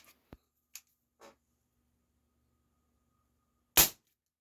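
Beeman P17 pellet pistol firing, one sharp loud crack after a few faint clicks and taps, close and otherwise quiet.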